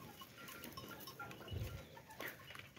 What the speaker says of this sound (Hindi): ये देसी बकरी है सर